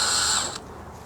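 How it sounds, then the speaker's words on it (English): A power tool whirs loosening the Phillips clamp screw that holds an intake assembly to a Lexus throttle body, a short steady mechanical whine that cuts off abruptly partway through, heard close and alone. "You're going to have a Phillips right here that clamps your assembly onto the throttle body. We're going to loosen up this clamp."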